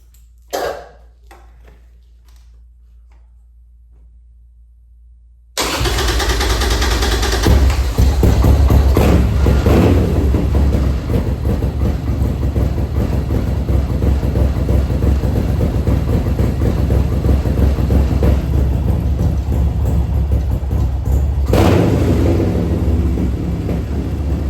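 A Harley Sportster flat track motorcycle comes to life after a few quiet clicks: the engine catches suddenly into a loud, rough, steady idle that rumbles on, with a rev swell late. It sounds close, with no talk.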